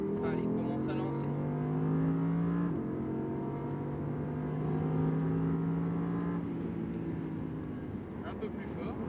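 An Audi R8 race car on the Le Mans Maison Blanche circuit drones steadily from inside, its engine note holding and shifting pitch through gear changes under continuous in-car talk.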